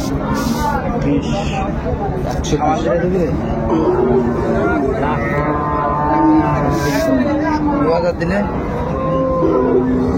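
Cows and calves lowing at the Raniganj cattle haat in Dinajpur, deep drawn-out moos rising over a constant busy crowd murmur, with traders talking loudly nearby throughout.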